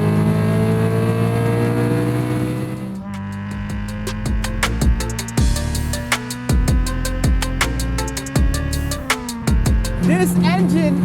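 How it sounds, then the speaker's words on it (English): A Honda S2000's naturally aspirated F20C VTEC engine revs hard toward 9,000 RPM, climbing loud and close through several sharp gear changes, with the pitch dropping and rising again at each shift. "This engine is lively."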